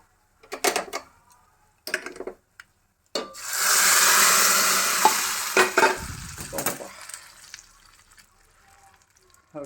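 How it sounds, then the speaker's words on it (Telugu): Spices hiss and sizzle loudly as they hit hot oil, the crackle fading over several seconds, with brief speech before and a stirring clink. "పప్పు అయిపోయింది కదా తాలింపు వేసేసుకుందాం"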